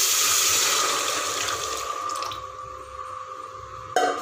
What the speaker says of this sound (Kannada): ಅದೇ ನೀರನ್ನು ನಾವು ಸಾಂಬಾರಿಗೆ ಹಾಕಬೇಕಾಗುತ್ತೆ